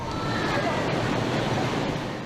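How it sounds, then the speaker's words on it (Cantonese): Storm surge waves crash ashore at Heng Fa Chuen in Hong Kong under Typhoon Signal No. 8 during Super Typhoon Ragasa, a loud, unbroken roar of surf mixed with gusting wind buffeting the microphone. "拍打上岸嘅浪同燈柱一樣高"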